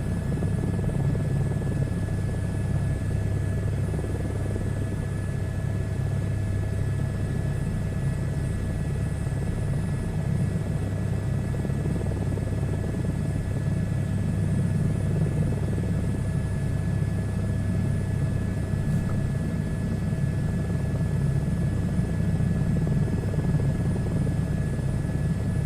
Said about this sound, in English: jet engines are just loud all the time